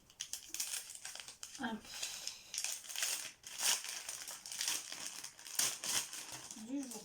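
Crinkling and tearing of wrapping as a Christmas advent calendar gift is opened with some struggle, a steady close crackle of paper running throughout, with someone speaking briefly over it.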